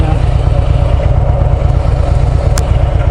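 A group of Honda Goldwing motorcycles idling nearby with a steady, loud, low rumbling throb that holds throughout, a brief clatter partway through.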